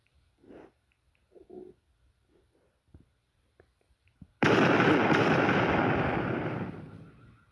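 A loud blast bursts out during a bank robbery in a roleplay video game, followed by a long rushing roar that slowly fades, after a few faint scattered clicks and thuds.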